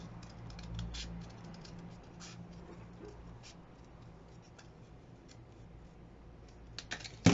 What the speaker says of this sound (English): And then we're going to hold it up here and bring it down and cut it like so.